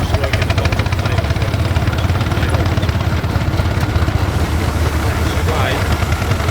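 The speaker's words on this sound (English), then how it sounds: "4-inch scale model, 1926, R3, bed engine, just working the bottom of the plate." A 1926 Fowler R3 4-inch scale model steam engine runs at a steam rally, giving a steady, rapid chuffing and mechanical rumble close by, with voices murmuring in the background.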